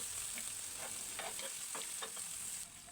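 Onion and ginger-garlic paste fry in oil in a wok, a steady close sizzle with scattered stirring scrapes, the hiss dropping slightly near the end.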